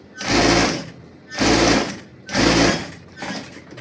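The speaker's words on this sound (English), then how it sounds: "So I'm going to go ahead and top stitch the outer parts" Sewing machine top stitching the outer parts of Christmas pyjama pants, in four loud, steady bursts of whirring with short pauses between, the last one briefer and softer.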